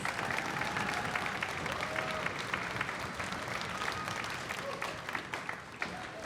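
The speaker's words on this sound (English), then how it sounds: "Can we give her a round of applause?" Sustained applause from an audience at a school string concert evening, steady dense clapping with a faint crowd murmur underneath, lasting throughout.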